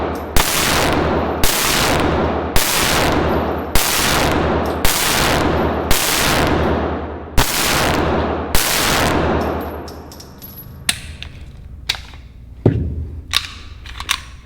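A Tisas Zigana PX9 9mm pistol fires eight loud, evenly spaced shots about a second apart, then a few fainter metallic clicks and a sharper knock follow as the handling continues.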